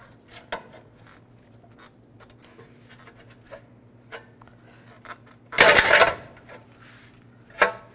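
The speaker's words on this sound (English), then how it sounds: "this hubcap, just use a pry bar." Hubcap being pried off a 1964-67 Pontiac GTO wheel with a pry bar, a short loud metallic clank and scrape near the end after scattered light taps and clicks, with a sharp knock closing out the sequence.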